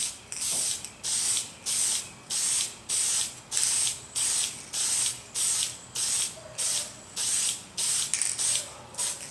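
Repeated short bursts of 1260 dull coat aerosol spray hissing over the trucks and wheels, about a dozen evenly spaced pulses close by, with brief pauses between each spray.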